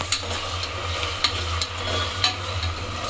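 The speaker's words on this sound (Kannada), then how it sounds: "ಸ್ವಲ್ಪ ಬೆಳ್ಳುಳ್ಳಿ ಪೇಸ್ಟ್ ಹಾಕಿದ್ದಾರೆ. ಸೊ ಫ್ರೈ ಮಾಡ್ತಾಯಿದ್ದಾರೆ." Garlic paste fries in a hot pan with a steady sizzle, stirred now and then with light scraping clicks, close and continuous with no voices.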